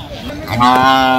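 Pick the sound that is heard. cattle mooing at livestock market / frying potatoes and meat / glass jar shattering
cattle mooing at livestock market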